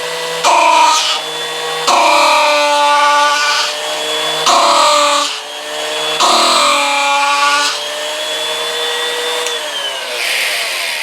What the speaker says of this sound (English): is a reciprocating carver. You plug it in, turn it off, get a piece of wood here, and with a little pressure